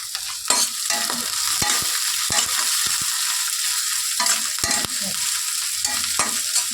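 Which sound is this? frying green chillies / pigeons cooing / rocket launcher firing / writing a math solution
frying green chillies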